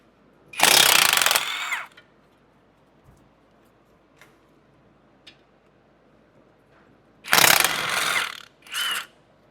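Impact wrench rattling on the front caliper bracket bolts of a Jeep Renegade during a brake job, two loud close bursts about a second long, the second followed by a shorter third burst, with quiet between.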